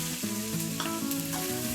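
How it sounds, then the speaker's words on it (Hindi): Onions frying in hot oil in a kadai, a dense continuous sizzle with soft stirring scrapes close by, and no voices. "ऑयल गरम हो गया है, ऐड कर देंगे अनियंस।"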